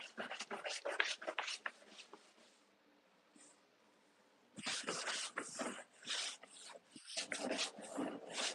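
A medium-firmness bristle brush scrubs a surface in bursts of rough, raspy strokes, close and fairly loud, with a quiet pause in the middle before the scrubbing resumes.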